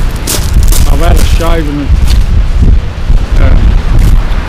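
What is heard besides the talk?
wind on Dungeness Beach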